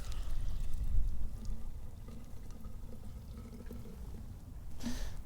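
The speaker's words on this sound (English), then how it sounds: "We'll pour in 20 ounces of water." Water is poured into a bottle to mix a cleaning concentrate, a continuous soft splashing rush that runs for several seconds at moderate level before a brief sharper sound at the end, with no talk.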